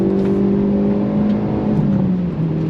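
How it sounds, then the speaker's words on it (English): Engine of a 2023 Hyundai Elantra N droning steadily as the throttle is rolled on, a loud continuous low hum heard from inside the car with a slight dip in pitch near the end, no speech. "Roll on that throttle."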